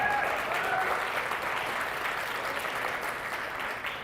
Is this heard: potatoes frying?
no